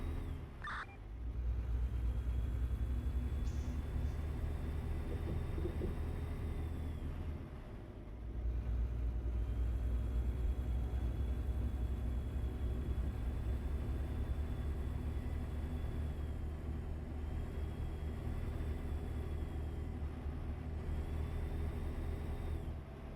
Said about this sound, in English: the thing I do like about this truck is the great Jake brake sound